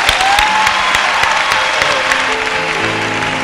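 A church congregation at a French-language service bursts into sustained, dense applause of many hands clapping, with a few tonal voices or cheers mixed in near the end.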